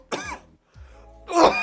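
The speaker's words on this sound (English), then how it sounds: "That shit was ugly for me coughing like that on the mic." A person coughs hard twice into a microphone, a harsh burst, a short gap with a low rasp, then a second louder cough, close and dry.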